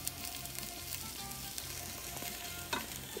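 Onions and garlic hit a hot pan and fry with a continuous, fairly quiet sizzle, with light crackles and a brief scrape near the end.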